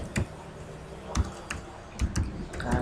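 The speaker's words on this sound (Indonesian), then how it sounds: "kita ketik seperti biasa" Quiet, scattered keystrokes on a computer keyboard, a handful of separate taps with irregular pauses between them, close and soft.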